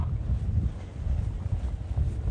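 Steady, loud wind rumbles and buffets the microphone outdoors during a bikepacking ride from Amiens to Paris, a constant low roar with no talking.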